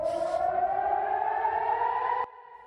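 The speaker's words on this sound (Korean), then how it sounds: "곳곳에서 공습 경보 사이렌이 울립니다." An air raid siren wails across Israel at night, holding a loud, steady tone that rises slowly in pitch before cutting off sharply near the end, leaving a fainter distant siren sounding on alone.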